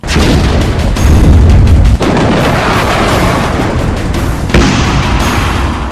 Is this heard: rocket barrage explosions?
yes